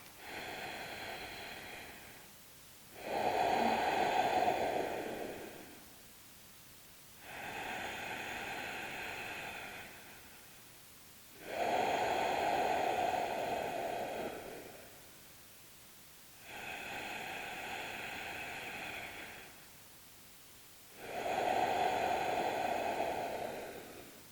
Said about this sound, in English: we're going to breathe in through the nose and out through the nose